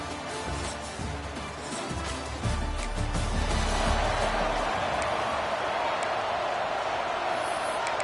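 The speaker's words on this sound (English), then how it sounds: "This crowd trying to show them what it's going to be like all day in this house" A college football crowd roars at Camp Randall Stadium, a broad wash of cheering that swells noticeably midway and stays loud, with a commentator talking over it.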